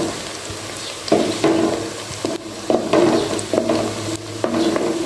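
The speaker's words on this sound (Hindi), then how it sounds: "तो इन खड़े मसालों को साथ ही थोड़ा सा भुनेंगे, प्याज को ब्राउन करेंगे" Whole spices and onions fry for a chicken biryani, a steady sizzle with stirring scrapes and clatters of a spoon against the pot coming in bursts, close and fairly loud, with no talking.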